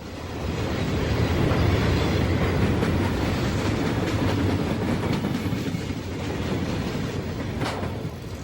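A long Conrail freight train of empty coal hopper cars rolls past close by, steady rumbling with rhythmic clickety-clack of wheels over rail joints.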